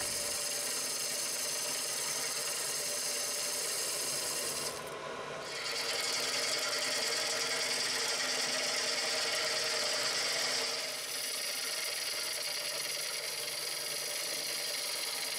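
Wood lathe spinning a natural-edge crotch bowl blank while a gouge cuts at the base, producing a continuous hissing, scraping drone with two short dips where the cut eases, close and steady.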